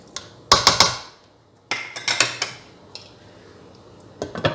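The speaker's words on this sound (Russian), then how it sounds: "Так, накрываем крышечкой" A metal lid going onto a pot of simmering zucchini caviar, several loud clattering clanks in quick clusters, then a few lighter taps near the end.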